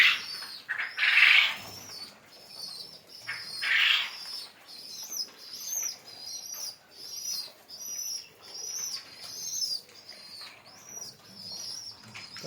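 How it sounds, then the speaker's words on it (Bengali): Caged pigeons coo and rustle with occasional bursts of flapping wings, a busy mix of soft bird sounds close by through the whole stretch. "এই এক জোড়া কবুতর"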